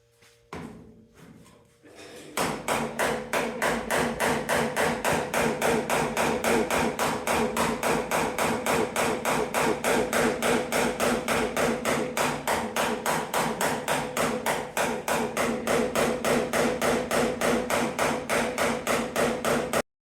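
A hammer pounds steadily and rapidly, dozens of loud metallic strikes in an even rhythm that continue without pause after a short quiet start.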